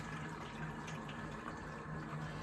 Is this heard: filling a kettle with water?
yes